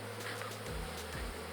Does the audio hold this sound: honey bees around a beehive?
yes